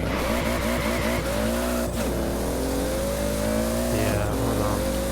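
A Toyota Supra drag car in Forza Horizon 4 revs hard and accelerates, its engine note rising in quick steps through shifts, with a brief tire squeal near the end.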